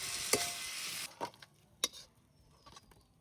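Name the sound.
paratha frying in pan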